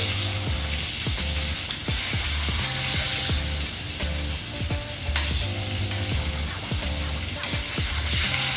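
Ribeye steaks searing in a hot pan give a loud, continuous sizzle, broken by scraping and shuffling as the meat is moved around; no talking.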